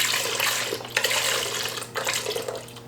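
Plain soy milk pours steadily in a continuous liquid splashing stream, close and fairly loud, with no talking.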